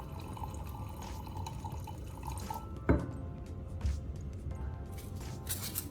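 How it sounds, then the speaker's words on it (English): Acetone slowly poured from a container onto styrofoam packaging pieces in a glass cup gives a soft, close liquid trickle and drip, with a sharp clink near the middle and no voices. "Then slowly pour in some acetone."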